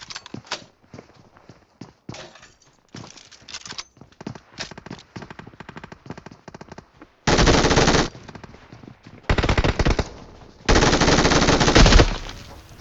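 Free Fire battle royale game gunfire: loud automatic bursts of rifle fire, several long sustained volleys after scattered lighter shots and footstep-like clatter, no talking.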